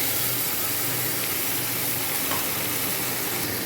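Garlic, ginger and chili paste sizzles loudly in a pan of fried onions while chicken kosha is being cooked, giving a steady, close, dense frying hiss that runs unbroken throughout.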